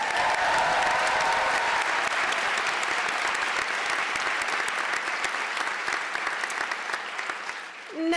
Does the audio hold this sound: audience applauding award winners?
yes